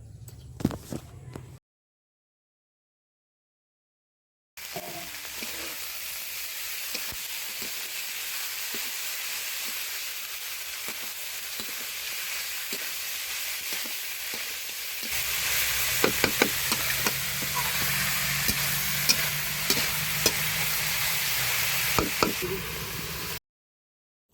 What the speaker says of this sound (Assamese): এতিয়া মাংসখিনি ভালকৈ ভাজি হোৱাত মই পচলাখিনি দি দিলোঁ।